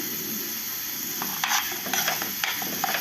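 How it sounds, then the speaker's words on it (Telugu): Onion chili paste fries in a tempering of oil for a spinach garlic dish, with a low steady sizzle broken by several sharp spoon scrapes and taps against the pan as it is stirred. "ఉల్లికారం దీన్ని తాలింపులో యాడ్ చేసి కలుపుతూ మంచిగా కలుపుతూ అడుగంటుకున్న బాగా ఫ్రై చేయాలి"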